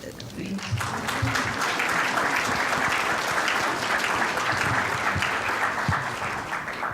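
Sustained applause fills a conference hall at a Global Burden of Disease Study 2010 event; the even, dense clapping runs for about seven seconds, with a voice briefly heard at the start.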